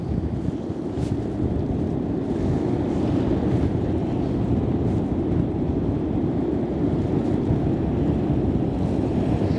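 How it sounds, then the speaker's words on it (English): Steady broadband rush of wind and surf on the open seaside at Holkham, a constant roar with no breaks, loud and close, with no talking. "There is something relaxing about being at the seaside though. The waves, I think, the sound, the air."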